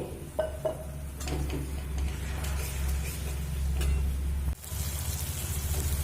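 Spices with chili powder and a splash of water are sautéed in a pan for a chicken filling. A soft, steady sizzle runs throughout, mixed with the scrape and clink of a spoon stirring the pan nearby.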